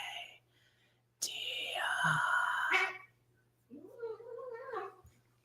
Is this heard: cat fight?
yes